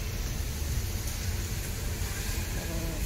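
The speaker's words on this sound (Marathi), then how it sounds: "आता थोडं पाऊस आला आहे, थंड वाटत आहे." Steady, dense rain noise, a constant broadband wash with no clear drops standing out, holding at the same level throughout.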